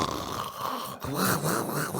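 A man imitates his wife snoring, making loud rasping nasal snorts in a rhythmic rise-and-fall pattern, several breaths in quick succession, close and alone.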